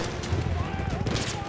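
Rapid World War I rifle fire in the Battlefield 1 campaign, dense cracking shots over ongoing battle noise, with someone talking over the gunfire.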